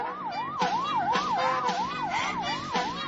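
A police car siren wails in a rapid, regular up-and-down sweep, loud and continuous, used as a sound effect in a Chinese crime radio drama, with no voices over it.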